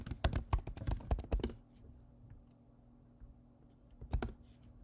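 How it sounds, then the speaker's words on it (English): Fingers type on a computer keyboard in a quick run of crisp clicks for about a second and a half. A quiet pause follows, then a short second burst of keystrokes. "I'm just going to type this one out because it's not that long."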